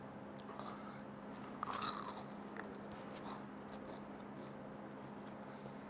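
Crispy fried tempura with a thin, crunchy batter and a packed filling bitten at a restaurant table, giving a few close, crackling crunches over low room noise with no talk.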